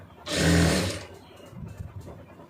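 A short burst of sewing machine stitching on an armhole lining, a loud whirring run of about three-quarters of a second, followed by faint handling noise.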